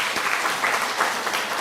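A church congregation claps briefly for its members over seventy on a Parents' Sunday service, a short, uneven patter of hands at moderate loudness with a few distinct claps rising from the room.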